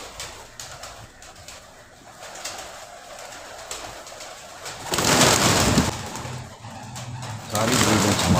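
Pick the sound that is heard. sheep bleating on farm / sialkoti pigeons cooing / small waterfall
sialkoti pigeons cooing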